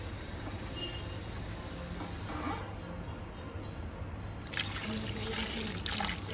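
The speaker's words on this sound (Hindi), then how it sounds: "ये मैंने पानी इसमें शामिल कर दिया।" Water trickles and splashes into a pressure cooker of spices for several seconds, with a steady low hum of a stove or room noise underneath.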